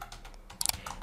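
A short burst of typing on a computer keyboard while entering a web address in a browser: a few quick, close key clicks clustered together, then a couple of softer taps, with no talking.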